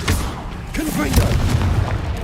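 Confringo blasting spell detonating in Hogwarts Legacy, a heavy booming burst close by, with a shouted spell name and other game sounds and voices layered over the blast.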